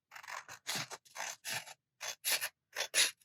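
Scissors trimming overhanging paper edges on a vintage Valentine bobbin spool craft project, a series of short, crisp snipping cuts in irregular bursts, close and clear with brief silences between.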